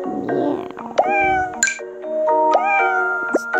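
Cartoonish cat meows from the Snack Bar video game repeat several times over a steady game soundtrack, with chime-like tones and a short burst of noise early on.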